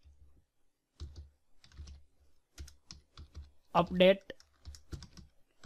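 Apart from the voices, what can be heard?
typing PHP code on a computer keyboard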